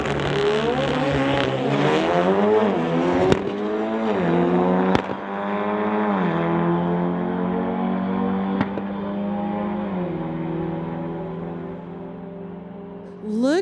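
A 1985 Porsche and a 2017 Audi S3 drag racing on a street-legal strip, engines loud and close with rising and falling revving through gear changes, a couple of sharp cracks, continuous roar throughout.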